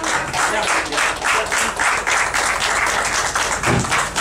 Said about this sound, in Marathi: टाळ्या वाजवून द्या।